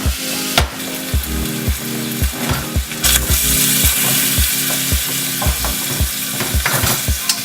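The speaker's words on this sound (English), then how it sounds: "So while my beef is being browned" Raw beef for a Bolognese sauce browning in olive oil in a hot pan, a steady close sizzle and fry broken by repeated scraping and stirring knocks at an uneven rhythm throughout.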